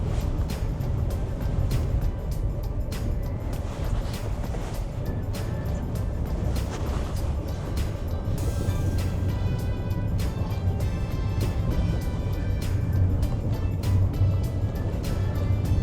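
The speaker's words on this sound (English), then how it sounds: "An almost 3-ton SUV on ice." A nearly 3-ton Zeekr 9X 2.0T PHEV luxury SUV slides on ice, producing a continuous, close drone of engine and tyre noise with scattered scrapes and knocks over the full stretch.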